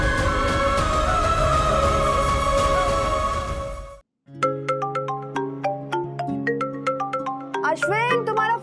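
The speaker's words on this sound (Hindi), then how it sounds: "अश्विन, तुम्हारा फोन बज रहा है।" Mobile phone ringtone playing a bright repeating melody of chiming electronic notes after a stretch of background music, clear and close.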